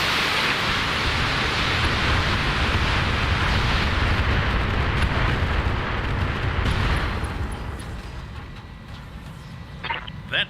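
Heavy video-game weapon fire and explosions from a King Crab battle roar as a dense, continuous rumbling blast for about seven seconds, then fade into softer rumble with a couple of sharp pops near the end; a voice is faintly present.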